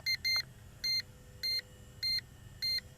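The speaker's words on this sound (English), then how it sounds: "Some beeping, turns around." A SNAPTAIN SP500 foldable GPS drone beeps as it begins its return to home: six short, clear electronic beeps at a steady pace of roughly two per second over faint background noise.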